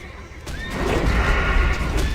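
A horse neighs loudly in a video game with a rising whinny over rumbling battle noise, close and prominent.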